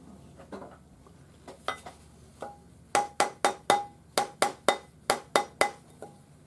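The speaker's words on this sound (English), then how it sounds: "round it up on the ring mandrel with your rawhide hammer." A steady run of soft, muted taps from a rawhide hammer rounding a ring on a mandrel, slow at first then quickening into an even rhythm of a dozen or so close knocks.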